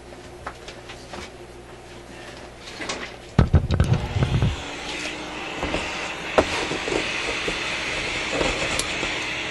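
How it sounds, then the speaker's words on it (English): A vacuum cleaner works over the chassis of an RCA A24 antique vacuum tube radio, a steady close whooshing drone with bumps and scraping clatter as the nozzle moves, growing rougher partway through. "Okay, let's just vacuum along here a little bit."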